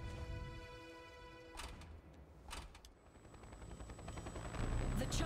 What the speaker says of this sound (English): The chopper's back.